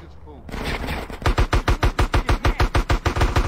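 Rapid automatic gunfire in Grand Theft Auto San Andreas on PC, a burst of evenly spaced loud shots running about two seconds after a brief louder blast, close and dominant.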